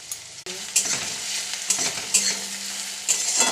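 Onions frying in mustard oil in a pan for chicken kosha, a steady close sizzle with occasional stirring scrapes, no voices.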